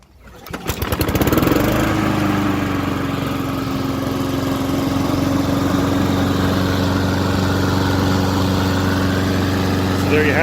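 A Honda walk-behind lawn mower engine starts after a few pulls of the cord, then settles into a steady, loud, even running drone close by. It keeps running unchanged to the end, with no voices.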